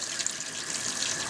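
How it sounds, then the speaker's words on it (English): Cold tap water running into a container of rice being rinsed to wash out weevils: a steady, close, hissing splash with no breaks over a short stretch. "Just keep running water and keep pouring them out until they're all gone."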